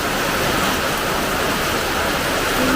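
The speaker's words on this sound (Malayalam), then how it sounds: "ഭയങ്കര മഴയാണ്." A heavy downpour of rain, a constant, close, full hiss of water falling with no break or change across the short stretch.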